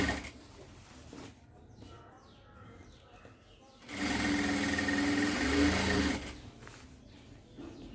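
A sewing machine stitches a dress top in a short loud burst of rapid whirring, set between quieter stretches of fabric handling and soft background noise.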